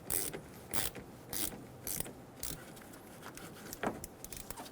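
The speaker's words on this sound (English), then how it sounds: "Using a 10mm socket, loosen the negative terminal for the battery." A ratchet with a 10mm socket clicks in short, repeated bursts while loosening the negative battery terminal on a Toyota Tacoma. The quick metallic ratcheting is close and fairly quiet, with small pauses between strokes.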